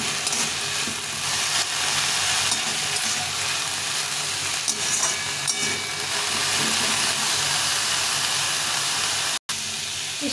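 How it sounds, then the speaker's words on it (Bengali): Leafy greens fry in a pan with a little salt and turmeric while dal is cooked; a dense, steady hissing sizzle fills the scene with faint stirring and no talk. "সামান্য লবণ, একটু হলুদ গুঁড়ো দিয়ে শাকটাকে ভেজে নেব।"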